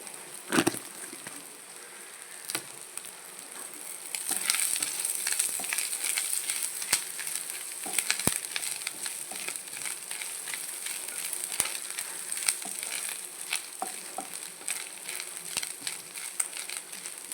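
Curry leaves frying in hot oil for a curry: a steady crackling sizzle with sharp pops and spatters, growing busier after the first few seconds, no voices.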